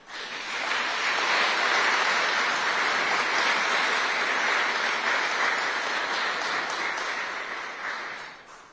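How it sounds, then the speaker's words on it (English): A large audience claps steadily at a ceremony honoring the 24th Infantry Regiment Buffalo Soldiers and their descendants, dense applause swelling quickly, holding loud and even for several seconds, then tapering off. "Please give them all a round of applause."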